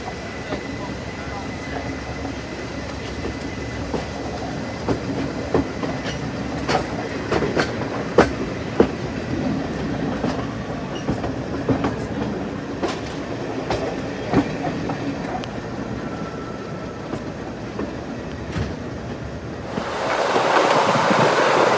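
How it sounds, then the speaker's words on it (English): Diesel locomotive D9551 pulls away from Watford station on a heritage railway diesel festival day, with a steady rumbling engine and wheel noise and scattered clicks of rail joints, ending in a louder burst of wind-like rush. "here you can see D9551 departing Watford Station."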